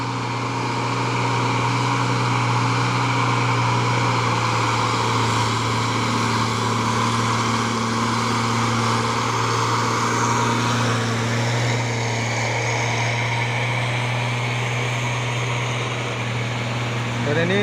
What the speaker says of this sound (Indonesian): Dan ini ada lagi truk Fuso intercooler.